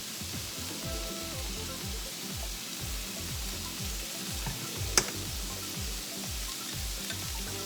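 Sesame oil hitting a hot pan for a fried milkfish dish in black bean sauce, giving a continuous quiet sizzle with a rhythmic low crackle and one brief sharp tick partway through.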